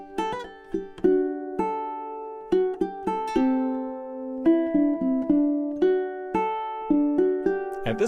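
Ukulele playing measures 5 through 8 of a piece, plucked notes and ringing chords in a lush, sustained arrangement, steady and close with no talk.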